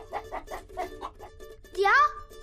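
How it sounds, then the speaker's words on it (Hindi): A hen clucks in a quick rising burst near the end, following a few seconds of child-like speech with steady background hum. "ये महारानी चिन्ना देवी के भाई वासुदेव की मुर्गी है।"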